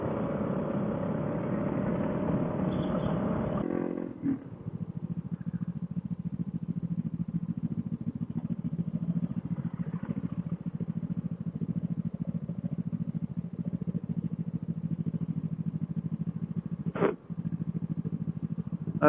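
A motorcycle rumbles loudly at close range for a few seconds, then the engine noise drops to a steady lower drone as it moves on, with a brief sharp clatter near the end.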